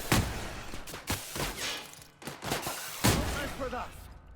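Shotgun firing in The Outer Worlds, a run of about six heavy, punchy blasts spaced irregularly over a few seconds, loud and close, with some background game noise between shots.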